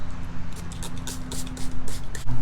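Bursts of 91% rubbing alcohol hiss from a spray bottle onto a tactical wallet, several short sprays in quick succession over a low steady hum.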